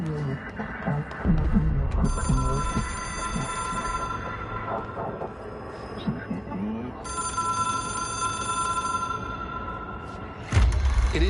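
A telephone in the video game Control rings in two long, bright electronic bursts, loud and steady, with a deep thud at the end.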